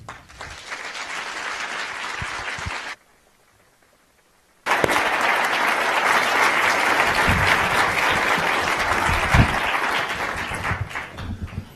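Warm audience applause welcoming a debate speaker at a university event, loud sustained clapping that drops out for about two seconds and then resumes full and steady to the end.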